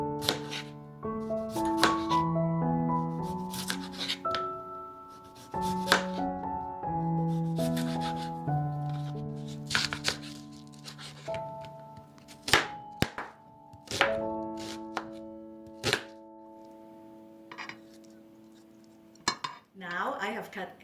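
Knife work on a board while ingredients for a slow cooker Portuguese salt cod stew are cut, with irregular thuds and clinks of dishes and utensils over a steady tone of background music.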